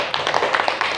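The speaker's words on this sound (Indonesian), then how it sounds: "Kasih tepuk tangan dulu." A classroom of students claps for a student group, a short burst of close, uneven hand claps with a voice speaking among them.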